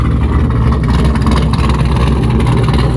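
An LS3-swapped Miata V8 idles while warming up, its exhaust a loud, deep, lumpy rumble that holds steady and close throughout.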